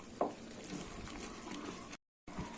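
Cashew burfi mixture cooking in a heavy nonstick pan, a soft continuous bubbling and sizzling with small pops, faint and close, briefly cut to silence near the end.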